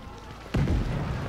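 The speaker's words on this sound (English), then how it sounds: "Ooh, explosion!" An explosion goes off in the video game The Division 2: quiet ambience, then a sudden heavy boom about halfway through that settles into a loud, sustained low rumble.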